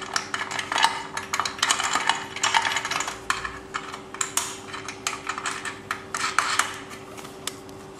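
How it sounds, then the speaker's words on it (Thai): Small metallic clicks and rattles of a nut being turned onto a bolt while assembling a spinning exercise bike, irregular light taps close up over a steady faint hum. "แล้วก็เอาตัวเมียครับมาขันใส่"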